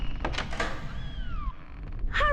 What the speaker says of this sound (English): I hear her down there meowing.